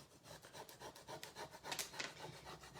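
A rub-on transfer being pressed onto a mirror makes a soft, rhythmic scraping and rubbing, repeated strokes close by with a few sharper rasps near the end and no speech.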